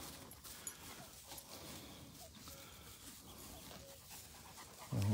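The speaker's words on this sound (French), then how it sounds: "Alors, mon chien il se fout complètement des chevaux." A dog pants steadily and fairly close outdoors in a natural area near horses, a rapid rhythmic breathing over faint background noise, with a bump at the end.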